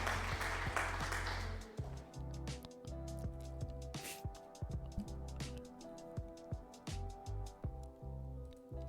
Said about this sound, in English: Yeah, we're clapping.